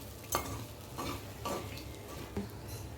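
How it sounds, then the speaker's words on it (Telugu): Okra fry is stirred in a hot pan with a utensil, giving several distinct scraping strokes over a steady low sizzle. "ఒకసారి అంతా కలుపుకోవాలండి."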